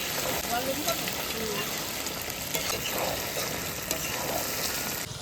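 Masala sizzles and fries in a pan as it is sautéed with Kashmiri chilli powder, a steady, dense hiss close by with faint stirring scrapes throughout.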